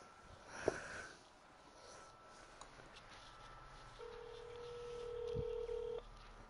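Short dialing tones from a telephone as a number is entered, a brief sharp tone near the start followed by a steady sustained beep later, all faint over a low background hiss with no talking.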